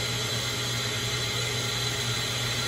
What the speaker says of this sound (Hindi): ड्रिलिंग चालू हो गई है चाबी बनना स्टार्ट हो गई है